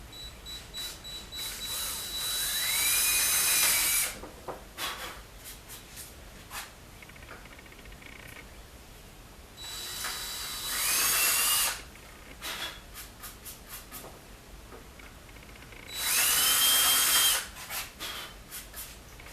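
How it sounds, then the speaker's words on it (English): A power tool cuts recesses into wood for a wall-mounted antler display shelf, with three loud bursts of high-pitched whining and grinding separated by quieter gaps of handling noise. "Now I'm just cutting my recesses."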